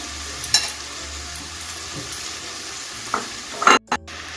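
Chopped onions tumble into a pan of sizzling cauliflower and spring onion greens, giving a soft crackling fry with a few sharp scrapes and clatters of a spoon near the end.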